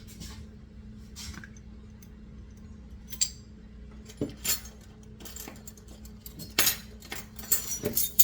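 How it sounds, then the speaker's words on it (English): A spoon stirs vanilla into muffin batter in a bowl, giving soft wet squishes and scattered light clinks against the side, quiet and close with no voices. "I'm just going to stir the vanilla in."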